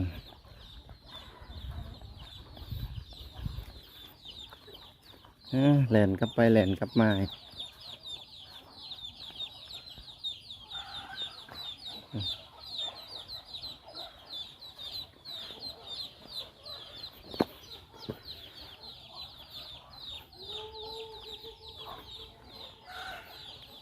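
A large flock of free-range chickens clucks and murmurs throughout, mostly soft and scattered at middle distance, with a loud burst of sound around the sixth second and someone talking at times.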